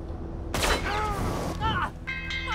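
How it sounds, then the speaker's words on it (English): Gunfire in the Red Dead Redemption 2 video game bursts out in a loud volley, followed by ringing, sweeping tones and further shots, with frantic voices shouting over it. "They're shooting at us!"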